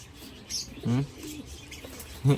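A six-day-old racing pigeon chick gives a few short, soft chirping calls up close, with quiet pauses between them and no voices.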